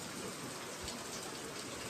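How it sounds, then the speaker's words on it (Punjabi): Steady, dense patter of rain, a continuous wash of noise with no breaks and no voices. "ਮੀਂਹ ਸਟਾਰਟ ਹੋ ਗਏ"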